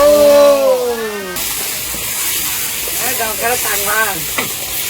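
Duck meat frying in oil for a kala bhuna, a steady hiss and sizzle running under a voice, with a loud steam-like whoosh at the start.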